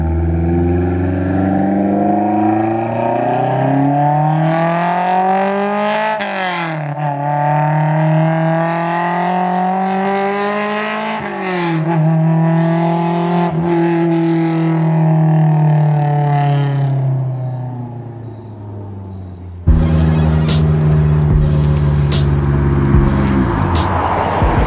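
A Honda S2000 fitted with a test pipe revs and accelerates loudly through repeated gear pulls, its harsh, raspy exhaust rising and falling in pitch close to the microphone, ending with a burst of louder, rougher engine noise.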